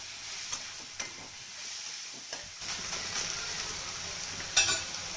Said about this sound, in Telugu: ఇప్పుడు మష్రూమ్ వేసుకొని మంచిగా ఫ్రై చేసేసి